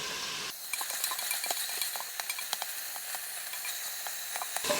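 Beef stew meat browns in a pot as the pieces are turned, a continuous close sizzle broken by scattered clicks and scrapes of the utensil flipping each piece, with no voices.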